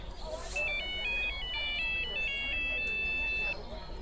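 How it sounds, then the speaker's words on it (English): A plastic silver flip phone rings with a bright, beeping electronic melody that plays for about three seconds over a quiet background. "Suddenly my phone began to ring."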